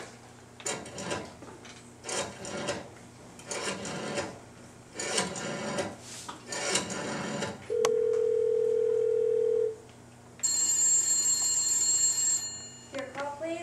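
Radio drama telephone sequence: a rotary dial or handset clicks and rasps in a few bursts, then a steady, loud dial-type tone holds for about two seconds, followed by a higher electronic telephone tone for several seconds.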